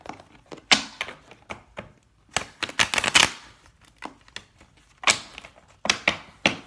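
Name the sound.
shuffling tarot cards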